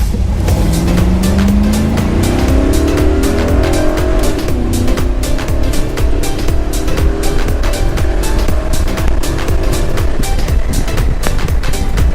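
A loud drag racing car engine roars and revs upward in pitch as it accelerates hard at Farmington Dragway, sustained and close throughout.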